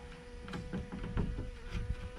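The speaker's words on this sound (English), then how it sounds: "Y'all see that big old bee right there?" A large carpenter bee buzzes outdoors, its low drone rising and falling over about two seconds as it hovers nearby at a moderate level, with no talking.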